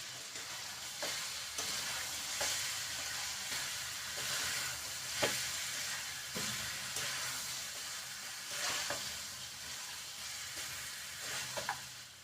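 Chopped tomatoes fry in a pan of chicken and spinach masala with garam masala, a steady close sizzle broken by regular clacks of a spoon stirring through it, with no voices.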